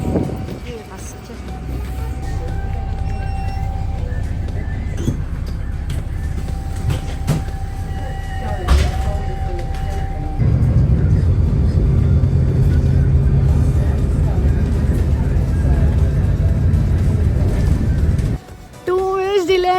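A bus pulls in at a UK bus stop. A loud, close engine rumble and road roar carry a thin whine, then a deeper idling drone follows, with a short hiss near the end.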